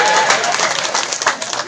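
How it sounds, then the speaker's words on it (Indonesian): Short burst of crowd clapping at a Sundanese wedding sermon, loud and dense with a voice mixed in over the applause. "Tepuk tangan."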